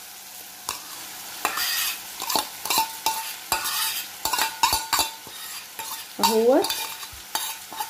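Washed rice frying in a pot for stuffed pigeons, stirred with a spoon. Loud close sizzling is broken by frequent scraping strokes and knocks against the pot, and a short spoken word can be heard partway through.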